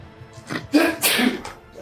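A single sharp sneeze bursts out during a tabletop role-playing podcast session, a short breathy intake followed by a loud explosive burst, close to the microphone.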